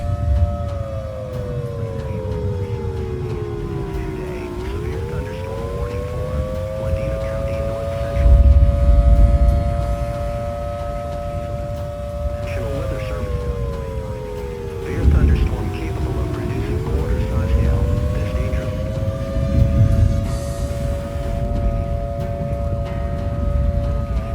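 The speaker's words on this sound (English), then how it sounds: "the tornado siren is going off in Prior Lake" A civil defense tornado siren wails over Prior Lake, its tone rising and falling in slow sweeps as it rotates, heard steadily from inside a truck cab amid low road rumble.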